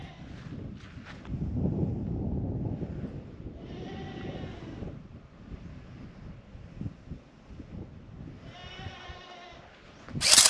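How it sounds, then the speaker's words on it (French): A goat or sheep bleats repeatedly from a sheepfold in a small Pyrenean mountain hamlet, the wavering calls coming in two clear bursts at moderate distance amid wind noise on the microphone. "C'est une chèvre sûrement."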